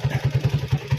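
A motorcycle engine idles or putters close by, throbbing in a quick, even pulse of low thumps with light mechanical clatter riding on top.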